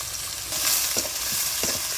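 Small shrimp frying in soybean oil with onion, garlic and green chilli for a village-style radish greens dish, a dense close sizzle with soft stirring scrapes, no voices.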